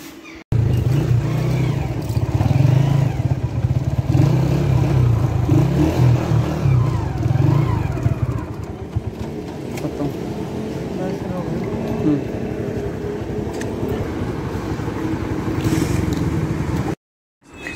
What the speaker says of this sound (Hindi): बाइक हो गई है तैयार, अब निकलते हैं ज़रा बाज़ार के लिए